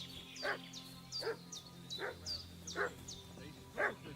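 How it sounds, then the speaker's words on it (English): A dog barks repeatedly in a medieval video game, evenly spaced yelps at moderate distance over a quiet ambient bed, with no speech. "What's that dog making such a fuss about?"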